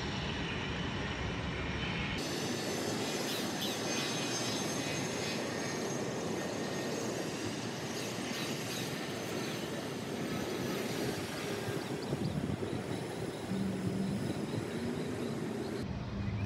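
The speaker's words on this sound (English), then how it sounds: "This bad boy's about to take off." A fixed-wing passenger airplane roars steadily during its takeoff run, a broad, sustained engine rumble that stays loud and unbroken from start to finish with no voices over it.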